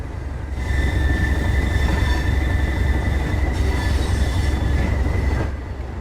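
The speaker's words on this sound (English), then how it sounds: "we are waiting for this train to toodaloo out of our way" A train passing in the Train Sim World 2 game on the East Coastway route, a loud continuous rumble of rolling wheels with a sustained wheel squeal, swelling and then easing off as it goes by.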